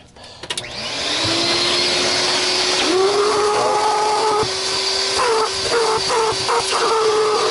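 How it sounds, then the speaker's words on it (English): A vacuum cleaner starts up and runs with a steady high whine and airy roar, close and loud, while it is used to clean out a Miele C3 vacuum that was run without a bag, with faint shifting as the nozzle moves. "one of the best things for cleaning out another vacuum is another vacuum"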